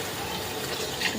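Water pours steadily into a cooking pan of fried spices and taro roots for a rohu fish curry, a soft continuous gush at low volume with no talk.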